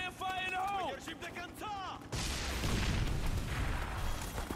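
A grenade blast in the shooter game 50 Cent: Blood on the Sand: a sudden loud boom about halfway through, rolling into a long, dense roar of debris and rumble, after a stretch of harsh tonal game noise.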